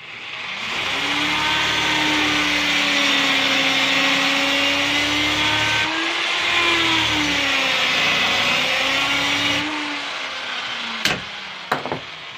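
A power sander runs on an MDF coffee table with a steady, loud whir that dips briefly midway. It cuts off near the end, followed by a few sharp knocks.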